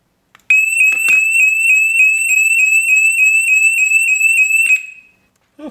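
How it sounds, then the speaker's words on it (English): A SimpliSafe home security siren set off by its panic button blares loud and piercing, a steady high-pitched electronic tone pulsing rapidly for about four seconds before cutting off, followed by a brief voice. "Let's hit the panic button and see how loud it is."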